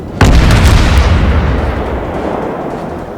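A torpedo hit explosion in the game World of Warships: one heavy, loud boom that starts suddenly and rolls on with a long, rumbling decay.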